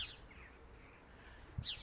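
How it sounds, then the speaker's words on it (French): Birds chirping outdoors near vineyards on a quiet day, a couple of brief high calls at the start and end over faint ambient hush. "c'est très silencieux, on entend les oiseaux"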